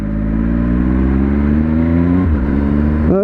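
A 2018 Triumph Speed Triple RS motorcycle on a test ride: a steady, loud engine drone holds a near-constant pitch, dips briefly, then rises sharply in a quick rev at the end.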